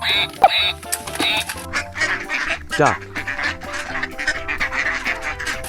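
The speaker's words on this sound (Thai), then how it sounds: "นี่มีเป็ดด้วยดักส์" Ducks quack repeatedly in short nasal bursts near the listener, mixed with other animal calls and a voice talking over them.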